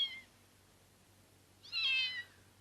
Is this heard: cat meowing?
yes